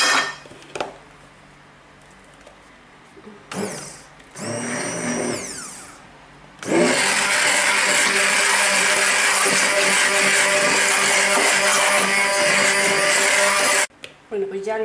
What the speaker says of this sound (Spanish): ahora lo vamos a batir con la batidora